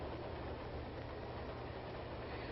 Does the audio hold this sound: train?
yes